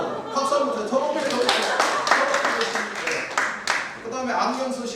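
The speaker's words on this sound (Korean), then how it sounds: "박수 한번 주세요." Scattered hand claps from a small group at a Rotary District 3690 training seminar ring out over ongoing talk and chatter, moderately loud and close.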